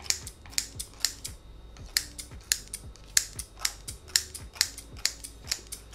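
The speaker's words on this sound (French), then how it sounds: "je vais prendre mon ciseau avec mon tabac. Je vais recouper par-dessus sans faire tomber à côté" Scissors snip shisha tobacco in a steady series of crisp, close cuts, each short click-like snap repeating every half second or so, with no talk over them.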